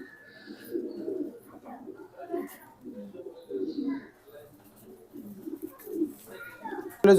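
Racing pigeons in a loft coo in soft, repeated low bursts that rise and fall throughout, mixed with a voice talking nearby.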